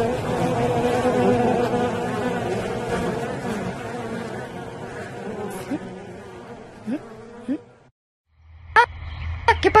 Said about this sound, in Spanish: ¿Por qué hay tanto ruido, amigas abejas?